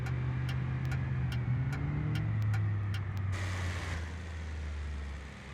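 Hazard lights tick on a car in the BeamNG game, a regular series of crisp clicks over a low engine idle that shifts pitch, then a burst of broadband noise as the clicking stops.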